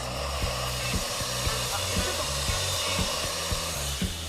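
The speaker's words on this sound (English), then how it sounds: "Like a vacuum cleaner, it sucks in air to lift and carry heavy objects." A Sun Technical vacuum lift draws in air with a steady, loud, close rushing hiss like a powerful blower, running continuously with faint low rhythmic thumps underneath.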